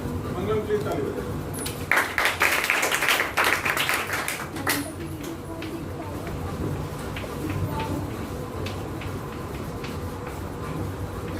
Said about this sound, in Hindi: मंगलम प्लीज ताली बजाइए